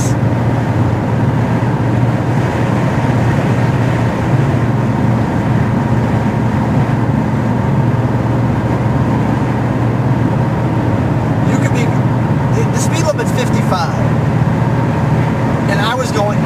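Car cruising at about 80 mph on a Massachusetts highway, a steady loud road and engine rumble filling the whole stretch, with a voice talking over it throughout.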